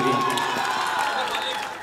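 Loud crowd applause and cheering from an audience at a live Odia melody group stage show, a dense continuous wash of clapping and shouts that stays steady and close throughout.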